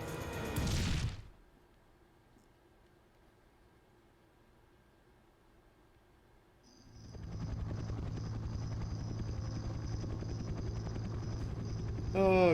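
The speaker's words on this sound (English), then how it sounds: "It's a helicopter with a assault cannon on the front" A helicopter's rotor drone in the video game Dead to Rights rises and holds steady after a burst of noise and a quiet stretch, joined by a high whine.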